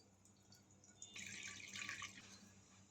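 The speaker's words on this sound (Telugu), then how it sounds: "వాటర్ పోసుకుందాం." Water poured into a cooking pot on the stove while making veg noodles, a faint, quiet splashing stream lasting about a second in an otherwise hushed kitchen.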